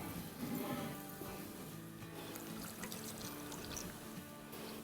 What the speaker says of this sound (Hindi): चले अब इसमें हम पानी डाल देंगे।